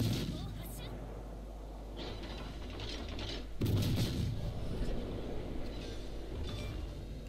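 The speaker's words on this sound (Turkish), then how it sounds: "Kiev'i gördüğüm gibi önce bir salvo sıkıyorum" Main battery salvo from the Bayard, a compact French cruiser in World of Warships, a single heavy boom midway through a low engine drone, with faint game noise and soft talk around it.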